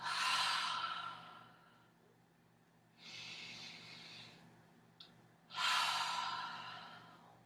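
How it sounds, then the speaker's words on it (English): Three cleansing breaths exhaled through an open mouth during gentle yoga, soft breathy airy rushes close to the microphone separated by quiet pauses, the last one strongest. "Exhale through an open mouth."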